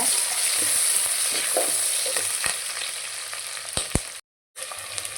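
Onions frying in a pan for Telangana-style bagara rice, a loud, dense, continuous sizzle with occasional stirring taps near the end and a brief dropout, no voices.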